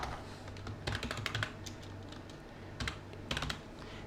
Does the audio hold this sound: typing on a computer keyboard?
yes